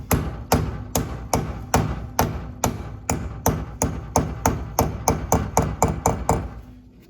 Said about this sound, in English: You just tap around, tap this on.